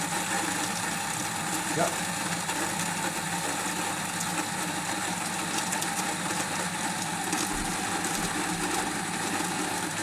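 A Devanti espresso machine's built-in coffee grinder runs as a steady close motor whir with a rough, buzzy texture, continuous from start to end, while a person says a brief word over it.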